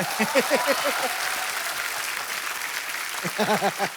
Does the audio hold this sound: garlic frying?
no